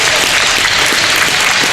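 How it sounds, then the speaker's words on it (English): At a men's college ice hockey championship game, the crowd applauds as an injured player gets back on his feet, with steady, loud, dense clapping filling the arena. "The clapping you hear is that Sode is now on his feet"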